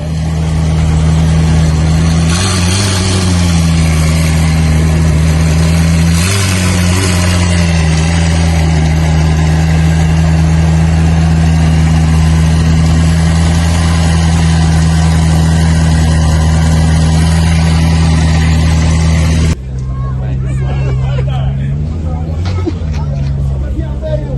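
A loud tuned sports car engine idles nearby with a deep, steady drone and a couple of brief revs, with background chatter; it drops away abruptly near the end.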